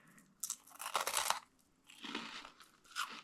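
Loud, close crunching and chewing of a freeze-dried Lifesaver candy, two bursts of crisp, crackly bites separated by a short pause, with no talk.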